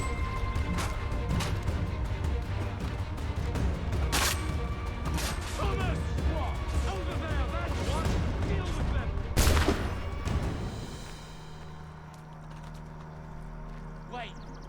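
Rifle gunfire in the video game Assassin's Creed 3 cracks out over a busy battle backdrop of hooves and voices, with one loud blast standing out near the end before the noise thins to a low rumble.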